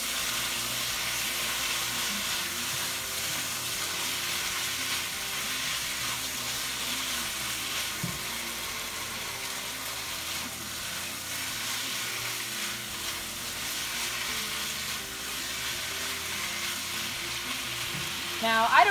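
Noodles and vegetables in a sweet and sour stir fry sizzle and crackle steadily in a hot pan, a continuous close frying hiss with occasional stirring clatter and no speech.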